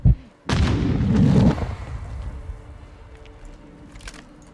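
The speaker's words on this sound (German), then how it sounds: "Oh, Granate." A grenade blast in the multiplayer shooter Call of Duty: Modern Warfare II: a short sharp pop followed by a loud, booming explosion that rolls on for about a second before fading into a low rumble of the game's background.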